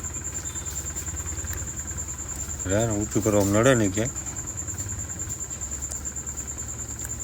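A tractor engine runs steadily nearby as the tractor is edged forward during farm equipment repair work, a constant low drone with a thin high whine on top, and someone speaks briefly over it partway through.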